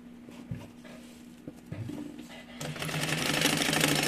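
A sewing machine backstitches mini backpack fabric in short stop-start bursts, then runs into a faster continuous whir, close and fairly quiet.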